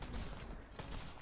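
Gunfire in the pirate ship game Blazing Sails, a rapid burst of several faint shots crackling in quick succession, no talk.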